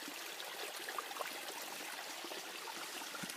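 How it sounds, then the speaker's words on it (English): Water from a live spring flowing into a very small creek, a close, steady trickling and babbling rush with no talk. "there's the live water spring going into the very small creek"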